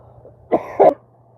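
Two short, sharp coughs in quick succession, close to the microphone, followed by quiet.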